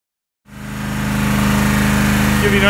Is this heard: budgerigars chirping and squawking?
no